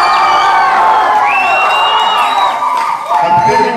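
A crowd cheers and whoops for the winning Sina Gerard athletic club team at a prize-giving, sustained and loud with excited voices throughout and only scattered clapping.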